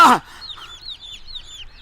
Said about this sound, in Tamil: டேய் உன் கோழி குஞ்செல்லாம் பறக்குதுடா